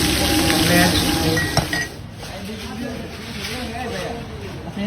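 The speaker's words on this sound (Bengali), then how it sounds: "এই যে আমাদের মাছ ভাজা হচ্ছে" Hilsa fish pieces and heads sizzling and spitting in hot oil with a steady hiss, a person talking over it and a few clinks of a utensil.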